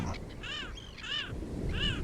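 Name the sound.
seagull crying out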